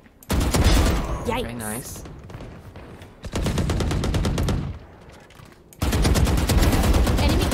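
Automatic gunfire in the shooter game Valorant, loud rapid bursts of shots in three separate strings with short pauses between them, and someone speaking briefly during the firing.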